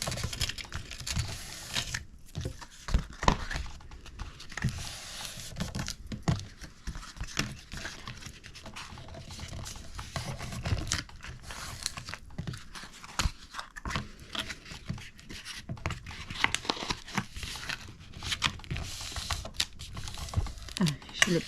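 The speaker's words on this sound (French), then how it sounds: "Je vais marquer mes plis." Paper being creased and folded for a handmade December craft, with crisp, irregular taps, rubs and crinkles close by, scattered through the stretch alongside light handling noises.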